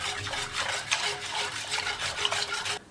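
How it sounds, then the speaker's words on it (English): Wire whisk scraping rhythmically around a bowl, blending cinnamon and a couple pinches of salt into eggnog, with repeated brisk close strokes and no talk. "and I'm gonna whisk that together."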